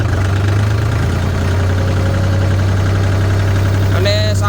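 A New Holland 5510 diesel tractor engine runs steadily under load with a rotavator attached, a loud continuous low drone with a slight knocking texture and a brief higher whine near the end.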